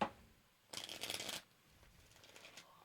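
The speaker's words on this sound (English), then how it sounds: "I'll do another face down shuffle here so I can't see him." A deck of playing cards is riffle-shuffled face down at close range, a single dense burst of fluttering card noise lasting under a second, followed by quiet handling.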